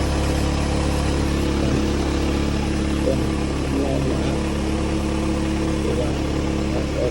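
A car engine idles steadily after its engine support has been replaced, giving a constant low running hum that stays even and smooth throughout, with no talking.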